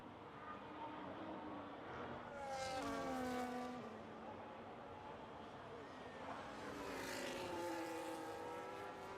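Race cars run laps at Imola in a sim racing game. A continuous engine drone shifts pitch as cars pass, with two louder swells of revving and gear changes, and a commentator talks over it.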